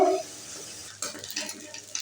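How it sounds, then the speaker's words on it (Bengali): Oil sizzles steadily as shrimp fry, with a few scraping stirs, the crackle fairly close and moderately loud, with no voices. "এখন আমি লাল লাল করে ভেজে নেব"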